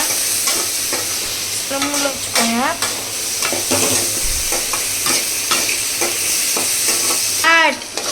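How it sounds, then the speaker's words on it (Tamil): Tomatoes sautéing in a pan for a chicken gravy give a continuous sizzle with scraping stir strokes throughout, broken by a few short squeaky chirps. "தக்காளி போட்டு நல்லா வதக்கிக்கோங்க."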